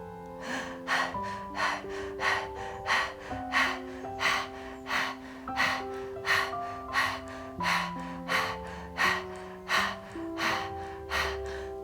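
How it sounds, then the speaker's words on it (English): Rapid panting breaths repeat steadily in a relaxation exercise over soft sustained background music tones, a fast even rhythm throughout. "So just rest your hands in your lap and start panting."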